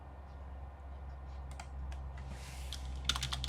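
Quick run of keystrokes typed on a computer keyboard into the File Explorer address bar: light, close clicks coming in short bursts over a low steady hum.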